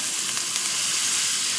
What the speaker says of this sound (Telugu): తాలింపు వేపి తీసుకొచ్చేద్దాం.